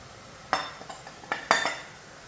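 A spoon stirring ground spices and black pepper powder in a pan for beef curry, heard as a few quiet scraping clinks of metal on the pan, isolated and close.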